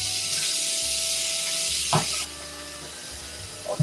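Kitchen tap water running steadily while a bowl is washed out, a bright continuous hiss with a couple of soft knocks, dropping to a quieter flow midway.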